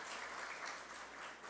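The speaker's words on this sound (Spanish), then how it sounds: "recibamos con un fuerte aplauso a nuestra compañera, la doctora Delia Fajardo" An audience claps to welcome a speaker at a research network launch, a faint, dense patter of many hands heard from a distance, steady throughout the brief moment.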